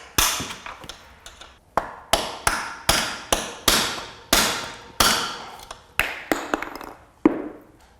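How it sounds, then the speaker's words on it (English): A hammer drives a punch through a bicycle frame's bottom bracket shell to knock out press-fit plastic cups, producing a dozen or so sharp metallic strikes in an irregular rhythm, close and loud with no speech. "The punch is probably going to take the plastic cups out in several pieces"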